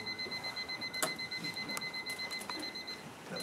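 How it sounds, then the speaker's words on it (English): An alarm clock beeps in a rapid, steady pulsing pattern, fairly faint, with a few clicks as buttons are pressed. "In the morning, so I'm just going to set my alarm."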